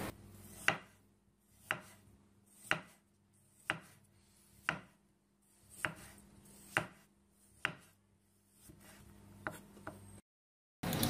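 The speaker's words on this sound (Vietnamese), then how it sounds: "Tỏi ớt mình cắt ra xong rồi" Garlic and chili peppers being chopped with a knife on a board, about a dozen sharp, evenly spaced close chops roughly one per second, with quiet pauses between them.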